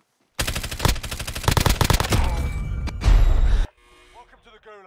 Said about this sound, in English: Getting shot at from the roof.